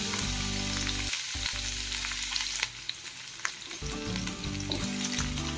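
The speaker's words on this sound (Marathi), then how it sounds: "1 चम्मच तेल टाकायचं आहे। लांबसर कट केलेला कांदा टाकायचा आहे।" Long-sliced onion hitting a spoonful of hot oil for a chutney, a close, steady hissing sizzle with a few clinks and stirring scrapes, no talk, against a faint electronic hum.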